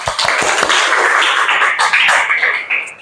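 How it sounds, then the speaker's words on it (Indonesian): An audience claps hands in a quick, close burst of sharp, irregular claps mixed with cheering voices, lasting a few seconds. "Oke, boleh tepuk tangan dulu deh."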